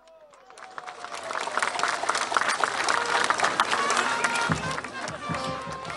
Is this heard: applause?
yes